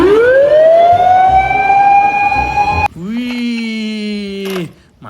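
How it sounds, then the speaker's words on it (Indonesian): An electronic toy fire truck siren wails loudly, rising into a long sustained tone, then switches abruptly to a lower, harsher pitched pattern before cutting off. "Ini mobil damkar."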